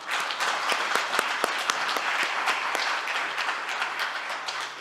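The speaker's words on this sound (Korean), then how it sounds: "우렁찬 박수로 개회식을 마무리하고자 합니다" A seminar audience applauds to close an opening ceremony with a dense, steady roar of many hands clapping. It sounds indoors and continuous for the whole stretch, with a faint hum underneath.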